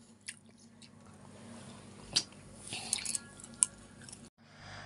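Momo dumplings eaten with a pumpkin broth, close and soft wet chewing and squishy bites with a few sharper smacks, quiet between.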